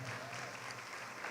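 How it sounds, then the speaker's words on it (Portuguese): Church congregation applauding during a worship service, a steady, dense wash of clapping that stays even and moderately loud for its brief length, with no voices standing out. "E toda a igreja tome seu assento aplaudindo a Jesus"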